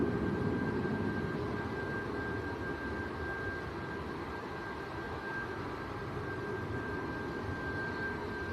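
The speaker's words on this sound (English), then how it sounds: "Ooh, and the Dreamliner of Tui just landed on the other side." A TUI Boeing 787 Dreamliner landing on the far runway at Manchester Airport gives a faint, steady jet roar from a distance, holding at an even level throughout with a thin whine over it.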